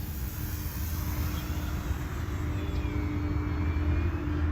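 An FMS P-47 Razorback radio-controlled model warplane flies overhead at a hobby field, its electric motor giving a steady, fairly loud drone with a slight rise in pitch as it passes, with no voices.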